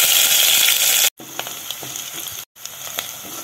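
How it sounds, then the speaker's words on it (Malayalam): Crushed shallots dropped into hot oil with mustard seeds and urad dal for a cabbage-carrot stir-fry. A loud hiss bursts first, then a softer steady sizzle with small crackles, broken by two brief cuts. "ഇനി നമുക്ക് ചെറിയുള്ളി ചതച്ചതിടാം"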